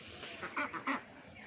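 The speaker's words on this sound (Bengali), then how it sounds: "দেশি হাঁসের বাচ্চাও আছে এবং দেশি হাঁস বড় হাঁসও আছে" Native ducks quacking on a farm beside a pond, a quick run of three or four faint, nasal quacks, with no talking.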